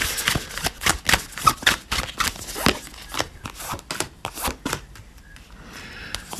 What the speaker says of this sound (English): Okay, so let's shuffle these up and then pull through piles.